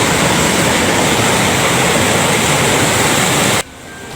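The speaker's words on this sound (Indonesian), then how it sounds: "kereta api melaju dengan kecepatan terbatas" A train rolls slowly over a flooded railway line in Grobogan, a loud, steady roar with rushing-water texture that cuts off abruptly near the end, leaving quiet.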